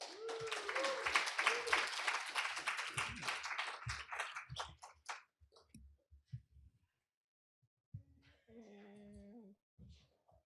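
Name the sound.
audience applause welcoming keynote speaker Benjamin Breen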